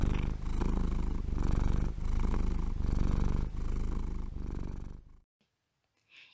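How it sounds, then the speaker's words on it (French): A contented cat purrs in close, loud rhythmic cycles of inhale and exhale, about six long rumbling breaths before stopping abruptly. "Il ronronne quand il se sent bien ou pour se rassurer."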